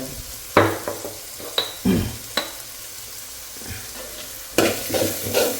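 Paneer bhurji frying in ghee in a pan, with a steady low sizzle broken by several sharp spatula scrapes and knocks, and a louder burst of stirring near the end; no voices.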